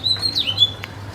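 A newly caught pigeon held in the hand at a loft gives brief, high, squeaky calls that rise and fall, close and fairly clear over a steady low hum.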